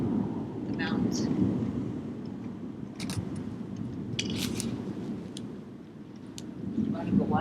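Thunder from converging storm cells rolls and echoes off nearby mountains: a continuous deep, heavy rumble that swells and eases throughout, with faint indistinct background sounds.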